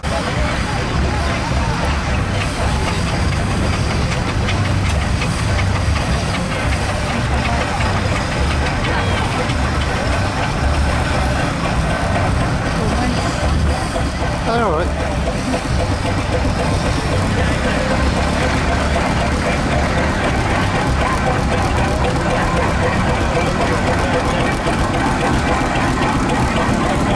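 A compound steam engine runs at the Speech House Vintage Show, a dense continuous mechanical clatter and hiss filling the whole stretch at steady loudness, with someone talking over it.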